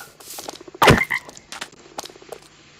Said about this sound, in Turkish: burada kurbağalar ne işi var?